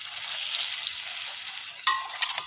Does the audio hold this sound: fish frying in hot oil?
yes